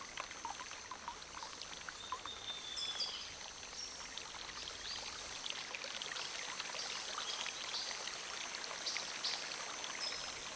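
Water runs steadily in a jungle, a soft continuous stream and trickle with faint high insect chirps, distant and low in level without any talk.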